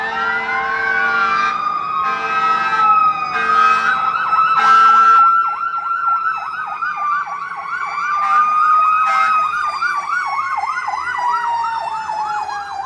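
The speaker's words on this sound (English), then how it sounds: "here's the siren." An emergency vehicle siren goes past a balcony garden, first a steady wail mixed with a horn-like blare, then switching to a fast warbling yelp that stays loud and prominent throughout, with no voices.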